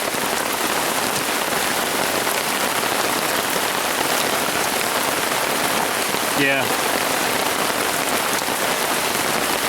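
Hard, steady rain comes down on a wooded campsite in Uwharrie, drumming continuously beneath the tree canopy, with a brief spoken word partway through.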